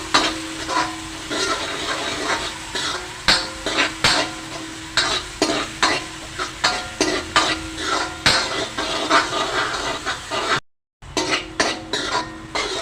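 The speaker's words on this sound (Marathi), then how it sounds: "चांगलं मिक्स करा तेलात चांगला लालसर होऊ दे कांदा" Onion frying in hot oil as it is stirred, a steady sizzle broken by rhythmic scraping and clanks of the spoon against the pan, close and busy, with a short silent gap near the end.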